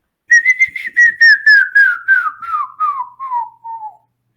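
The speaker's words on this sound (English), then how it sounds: "demonstrate my whistling. It's not very good." A person whistles a slow descending run of clear, wavering notes, close and fairly loud, gliding steadily lower over about four seconds, with no talking.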